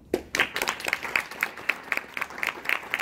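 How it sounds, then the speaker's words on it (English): An audience at a communication and anti-discrimination training applauds, a moderate room full of hands clapping steadily with distinct individual claps standing out, fairly quiet overall. "everyone should give a round of applause for them"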